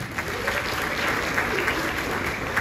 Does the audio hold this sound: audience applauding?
yes